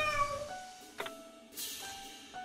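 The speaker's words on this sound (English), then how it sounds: "That is clearly Jasper Byrne's cat that he just recorded with like a Yeti or something" A cat meows in the video game Lone Survivor, a home-recorded real cat giving a few short, clear, close mews with a brief pause between them, alone without talk.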